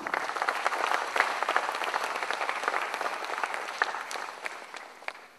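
Applause from the audience at a corporate event on stage, marking the strategic partnership announcement between BSE and S&P Dow Jones Indices, as the chief guest is welcomed: dense, steady clapping from many hands that runs the whole stretch and fades slightly at the end.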